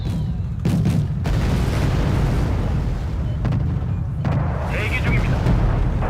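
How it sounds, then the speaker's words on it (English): Artillery fires in the video game Wargame: Red Dragon, a heavy rumbling barrage of deep booms and bursts that runs under continuous talking throughout. "Up, artillery's firing again."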